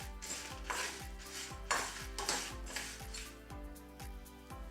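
Dal and dried chillies being stirred and roasted in a pan for curry leaf idli powder, with a steady scraping and clinking of a spoon against metal, repeated rhythmic strokes close up and no talking.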